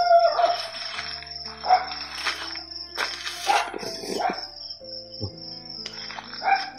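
Several dogs play outdoors, giving short barks and yelps at irregular intervals over a steady chirping of crickets and insects.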